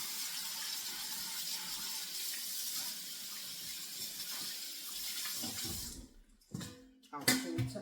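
Running tap water pours steadily over pineapple peel paste being washed in a sink, a continuous close hiss that breaks off near the end into a few splashes and clinks.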